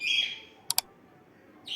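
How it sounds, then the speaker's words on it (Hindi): A parrot gives a harsh, high call, then two quick sharp chirps, then another call begins; outdoors and fairly close, with no talking. "और ये तोते सही शोर आज मचा रहे हैं"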